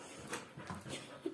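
Corgi dog whimpering indoors, with a few soft, close whines and breathy panting sounds in quick succession.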